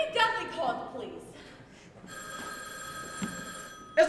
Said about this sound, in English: It's the phone again.